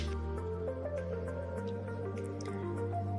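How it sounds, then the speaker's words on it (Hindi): Cut raw mango pieces being mixed with spice masala for a spicy, sour pickle, giving close, wet squishing and soft clicking sounds under a steady background hum, with no speech. "तो बढ़िया एकदम मसाले हम मिक्स कर लेंगे।"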